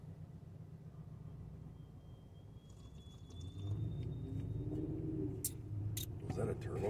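A thin rising whistle from a turbocharger or supercharger on a passing vehicle drifts over a low road rumble, followed by a louder engine swell and a few sharp knocks.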